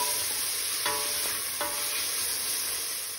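Finely chopped onion fries in melted butter for Goan-style mussels in wine broth. A steady, close hiss of sizzling is marked by two or three short spoon scrapes, with no speech.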